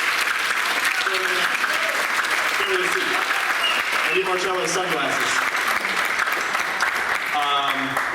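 Steady applause from a school audience at a high school spring band concert, filling the whole stretch with dense clapping while a speaker talks over it through a microphone.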